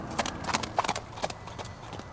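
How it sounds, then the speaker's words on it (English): Horse hooves clip-clop as the animal is led away from a circle in a Western audio drama scene, a series of moderately loud, uneven hoof strikes sounding close. "a brave leads the horse away from the circle"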